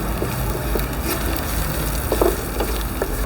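Onion and green chilli fry in hot oil for a mixed saag, giving a steady, close sizzle with small crackles and a few stirring scrapes.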